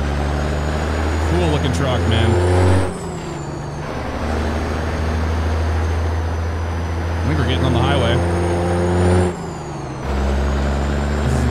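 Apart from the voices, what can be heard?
Jake brake on a Ford Aeromax truck in American Truck Simulator video game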